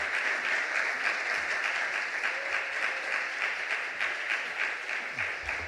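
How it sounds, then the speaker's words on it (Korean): Church congregation applauding to welcome the pastor, a dense, steady wash of many hands clapping at close range, sustained evenly for several seconds with no voices over it. "우리 박수로 우리 목사님 모시도록 하겠습니다"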